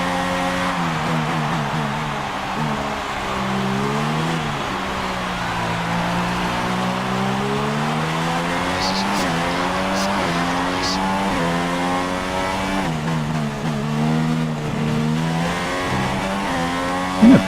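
Formula 1 race cars on the last lap in Canada in the F1 2016 video game, a continuous high engine whine rising and falling through gear changes, loud and steady throughout.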